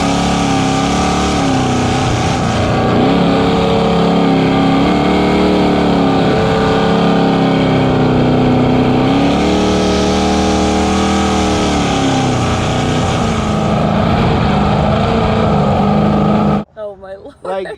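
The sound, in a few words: jet boat engine with 9-inch pump at throttle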